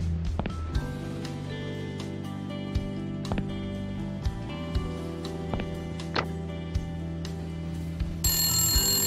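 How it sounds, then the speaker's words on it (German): A telephone rings in the point-and-click adventure game Randal's Monday, with repeated bright trills sounding over a steady low game background, loud and close, and no talk. "oh, Telefon, ein Anruf."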